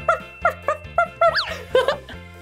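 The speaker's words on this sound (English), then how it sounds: "this one has a little puppy dog" A puppy yips and whimpers in a quick series of short, high-pitched barks, close by, over a soft musical backing.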